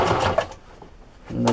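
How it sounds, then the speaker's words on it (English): A sewing machine runs a straight stitch through a microfiber scrubber sponge, a short close whirring burst that eases off midway and then picks up again at the end. "And you just sew straight line."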